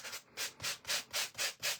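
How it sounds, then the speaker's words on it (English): A sanding block is scraped back and forth over cardstock dots to rough them up, six or seven even rasping strokes close by, quiet and steady, with no talking. "you can sand this with a sanding block."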